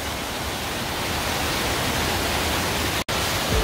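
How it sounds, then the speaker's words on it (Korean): A natural waterfall over ten metres tall pours inside Hwanseon Cave in Samcheok, a loud, constant, hissing roar that fills the cave, broken only by one momentary dropout near the end. "인위적으로 만든 게 아니라 동굴 케이브에 있는 워터폴이야"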